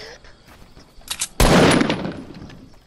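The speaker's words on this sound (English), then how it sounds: "Just took a pop shot." A single loud gunshot blast in the video game Fortnite, with a sharp crack and a decaying tail, preceded by fainter game noises and quiet background sounds.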